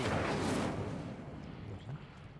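Incendio fire spell cast in Hogwarts Legacy, a loud whooshing roar of flame that bursts at once and then trails off over a couple of seconds.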